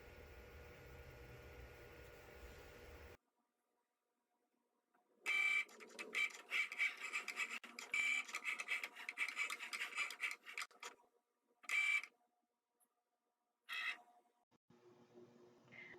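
A Cricut Joy machine cuts glitter vinyl in quiet, close rasping bursts, a few seconds of scratchy cutting broken by short pauses, after a brief stretch of background sound.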